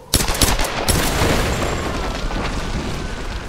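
Gunfire and heavy booms erupt in the video game Tomb Raider (2013), with a loud initial blast and rapid shots giving way to a sustained, dense barrage of weapon fire and explosions.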